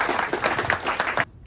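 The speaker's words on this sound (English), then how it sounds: "how about a round of applause?" Audience applause at an Ask a Science Envoy science talk event: a dense, loud wash of many hands clapping that fills most of the moment, then cuts off abruptly into near silence.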